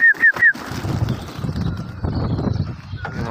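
Pigeons in a home pigeon loft, with a few quick wing flaps at the start, then soft rustling and shuffling close by, under faint background noise.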